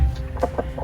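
A white hen kept in a garage gives short, agitated clucks, three quick bursts close by over a low background hum.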